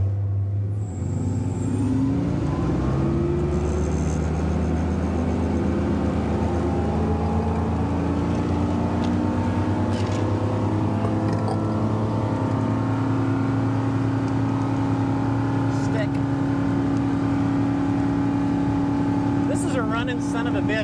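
A Crownline 260 EX motorboat runs on open water, its engine a loud, steady low drone that holds for about twenty seconds with only slight swells in pitch.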